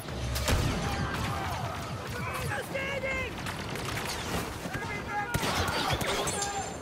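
Stinger pistol firing in a video game, a busy battle with repeated sharp shots and crashes, heard under ongoing talk.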